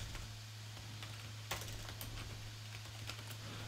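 Computer keyboard typing during work in Unreal Engine 5, giving a short burst of light, close key taps over a steady low electrical hum.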